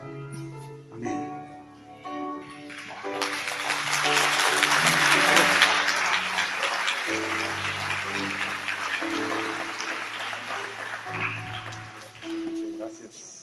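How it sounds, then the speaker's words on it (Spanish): A church congregation breaks into a long round of applause that swells to a dense peak and slowly fades, with a voice and sustained musical tones continuing underneath and after. "Un fuerte aplauso, Señor, por que nos trae esa palabra."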